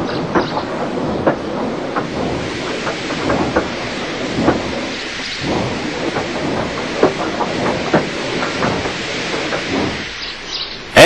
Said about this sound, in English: they uncoupled Gordon, who had enough puff to slink onto the siding out of the way.